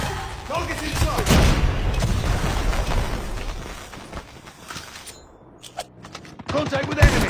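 Shotgun gunfire in the mobile shooter Call of Duty Mobile, heavy booming blasts in quick succession over dense game noise, explosions and effects, then a brief lull and a few final shots.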